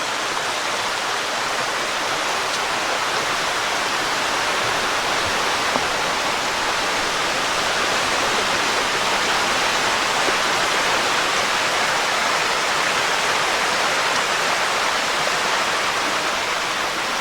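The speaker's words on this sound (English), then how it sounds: "you gotta love that sound of that flowing water." Continuous rushing water from a stream on the Appalachian Trail flows steadily, a dense broadband wash with no breaks or voices.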